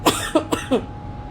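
Four short, sharp coughs in quick succession, close and fairly loud, then quiet.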